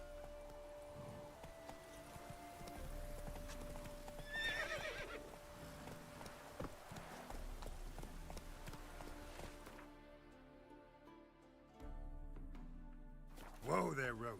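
Roach, a horse in The Witcher 3 video game, neighs in a short whinny and trots with rhythmic hoofbeats under game music, then gives another loud whinny near the end while someone speaks over parts of it.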